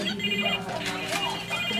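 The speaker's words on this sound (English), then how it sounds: "It's a phone." A toy phone rings with an electronic trilling tone, close by, while people talk over it during a child's first haircut.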